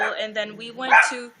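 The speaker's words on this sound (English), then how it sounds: "Excuse the dog, please." A dog barks in short bursts close by while someone talks over it, the barks mixing with her speech and peaking near the end.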